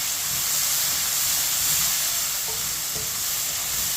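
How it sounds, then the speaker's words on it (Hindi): Chopped tomatoes and green chillies fry in a pan as a spoon stirs them, making a steady broadband sizzle with a couple of faint scraping clicks and no talking. "टमाटर को भी 2 मिनट के लिए पका लेंगे चम्मच चलाते हुए"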